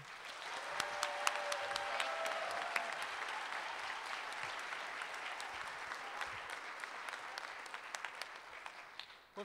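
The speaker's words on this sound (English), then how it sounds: "Please give a round of applause, a matador round of applause for CSUN President Dr. Dianne Harrison." Sustained audience applause at a university campaign presentation, a large crowd clapping steadily for about nine seconds with a brief faint voice early on, fading at the end.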